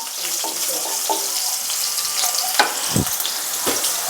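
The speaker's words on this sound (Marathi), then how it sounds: "लसूण छान परतून घ्यायचा" Garlic sizzles in hot oil in a kadhai, a loud close frying hiss with a few scraping stirs of a spoon against the pan and no voices.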